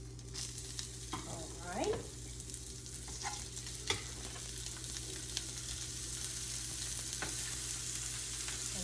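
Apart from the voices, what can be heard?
seasoned everything-bagel crusted tuna steaks sizzling in pan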